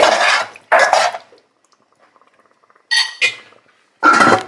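A lid is set onto a pot of egusi stew with a few sharp metallic clanks and clinks, loud and close, in short bursts separated by quiet pauses.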